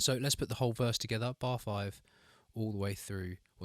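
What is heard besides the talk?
No everyday noise stands out behind the speech.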